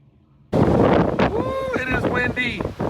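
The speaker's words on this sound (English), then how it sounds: "Woo, it is windy." Strong wind roars across the deck of the Disney Magic cruise ship at sea in rough waves, starting abruptly as loud buffeting over the microphone while a person exclaims and talks over it.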